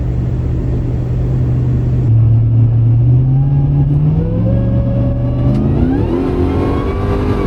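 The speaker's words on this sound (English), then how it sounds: "Just spinning the tires right there, fellas." A big truck on 40-inch tires spins its wheels on a wet road, a loud steady engine roar that climbs in pitch as it revs harder, close and with no talk over it.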